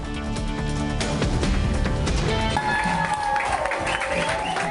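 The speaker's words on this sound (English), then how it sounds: "It's not hard to understand why this crowd is cheering on Irma Brown" A crowd outside Nacogdoches Medical Center applauds and cheers as a COVID-19 patient is wheeled out, a dense wash of clapping and voices heard at moderate distance.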